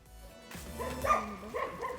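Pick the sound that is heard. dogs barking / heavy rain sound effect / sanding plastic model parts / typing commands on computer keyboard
dogs barking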